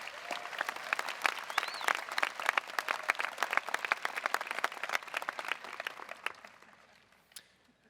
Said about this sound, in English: Can we have another round of applause for our student speakers,